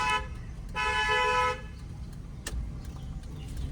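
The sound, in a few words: long car horn at a blind turn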